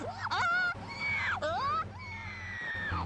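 A voice imitates a monkey's mating call with loud, wavering shrieks and hoots that swoop up and down in pitch, several rising cries in quick sequence.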